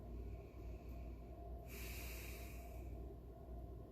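A single breathy exhale during a neck stretch for the jaw and front neck muscles, a short hissing rush of air in the middle of a quiet, steady background.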